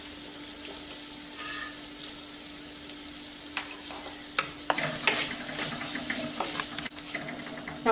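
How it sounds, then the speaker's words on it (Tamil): Onions sautéing on low heat in a kadai with a little salt, a steady soft sizzle with scattered stirring scrapes and clicks that grow busier partway through; no voices. "இப்போ வெங்காயத்தை போடுவோம். சிம்மில் வச்சு கொஞ்சம் வதக்குங்க."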